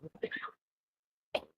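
A short throaty burst, then a second single cough after a pause of silence, close and fairly quiet.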